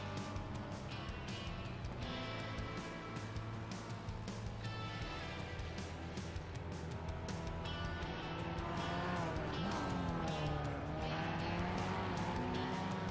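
Race cars in the video game iRacing, including a Ford Mustang and a Mazda Miata, engines droning steadily with shifting tire squeal as they corner, fairly close and continuous without talk.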